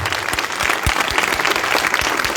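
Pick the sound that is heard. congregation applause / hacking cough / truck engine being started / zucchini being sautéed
congregation applause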